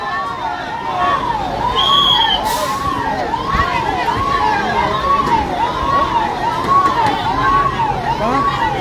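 At a street protest at Danapith Chowk in Wankaner, an ambulance siren sounds loud and near in regular rising-and-falling cycles over a dense crowd hubbub, with a brief high whistle-like tone early on.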